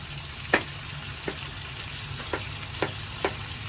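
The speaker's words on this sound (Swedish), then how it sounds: "Vi vill inte steka allt kött samtidigt." Beef browning in hot oil in a pan, cooked in batches, gives a steady close sizzle broken by regular light clicks and scrapes of stirring.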